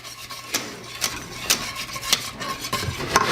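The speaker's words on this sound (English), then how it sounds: "Now I'm adding 1 more cup of milk, so in total I've added 4 cups of milk to this." Milk is stirred into a butter and flour sauce for chipped beef, with a spoon scraping the pan in regular strokes about twice a second over a soft sizzle, close and without talk.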